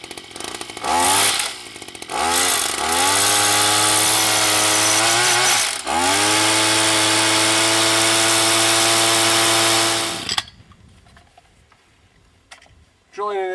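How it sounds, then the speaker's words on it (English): Drill boring into hard limestone, a loud steady whine with rising pitch sweeps in two long bursts, briefly interrupted, then cutting off abruptly near the end, leaving quiet background. "Drilling in this hard limestone"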